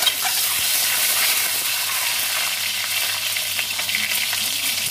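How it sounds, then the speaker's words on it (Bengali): Boiled duck eggs sizzle and crackle in hot oil, a bright steady frying hiss filling the space without any voices. "হাঁসের ডিম ভেজে নেব"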